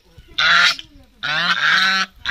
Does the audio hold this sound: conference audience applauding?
no